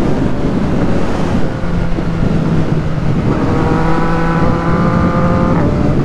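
A motorcycle out on a weekend ride is pushed to full throttle, its engine note climbing in rising harmonic bands under steady, heavy wind roar, loud and close throughout.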